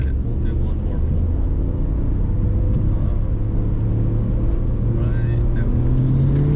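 Mitsubishi Evo IV car accelerating hard in a full-throttle pull, its engine note rising steadily as a loud, continuous rumble heard close from inside the cabin.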